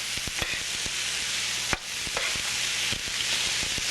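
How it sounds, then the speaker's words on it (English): A spoon stirs browning vegetables in a pan, scraping and knocking in uneven strokes over a steady close sizzle, with no voices. "I should have another spoon so that I can just mix it real well"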